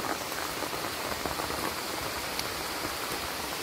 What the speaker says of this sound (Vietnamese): Bên ngoài vẫn đang mưa ầm ầm này.